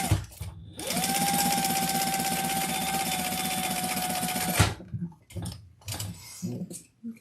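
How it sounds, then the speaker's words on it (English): A sewing machine basting fabric together runs in one steady, loud, close whir for about four seconds, then stops, followed by brief handling sounds and a few soft knocks. "So I'm just basting everything together right now."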